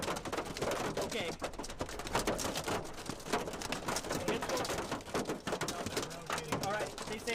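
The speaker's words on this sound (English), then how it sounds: "We're in some very heavy driving rain." Very heavy wind-driven rain pours down during a severe thunderstorm with large hail in the Eastern Panhandle, a dense, loud, continuous roar close by, with voices audible beneath it.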